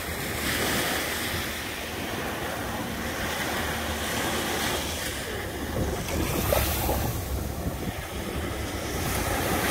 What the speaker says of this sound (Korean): 모터보트 이제 시원하게 질주하는 거 보이시죠?